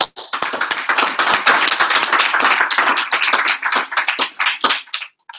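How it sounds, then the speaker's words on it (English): A small audience claps steadily for several seconds at a tech meetup, dense close handclaps that thin out and stop near the end. "give them a round of applause"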